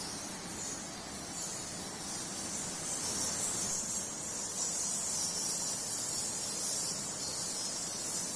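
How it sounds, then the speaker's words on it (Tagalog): A dense, continuous swarm of high-pitched bat squeaks and chirps fills an echoing cave, Libsong Cave in Lasam, steady throughout with no voices. "naririnig natin yung napakaraming huni ng paniki sa loob ng Libsong Cave"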